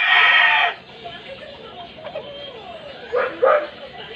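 A six-year-old Gull brood cock rooster, a molting gamefowl, gives a loud crow up close, followed by softer clucks and a couple of short calls over quiet background.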